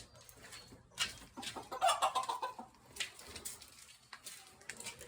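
A hen clucks several times inside a garage, with soft, irregular calls rising near the middle over a low background hum.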